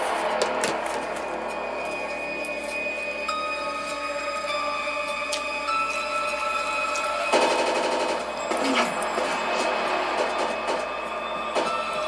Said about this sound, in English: they shot Tara in the back